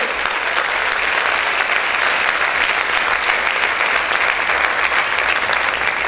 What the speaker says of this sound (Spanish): ¿Cuántos pueden aplaudir fuerte al Señor? Aplaude fuerte a tu Rey.